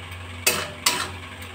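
A spoon stirs tomato, mango leather and date chutney in a pan over a gas flame, two distinct scraping strokes over a faint steady background hum.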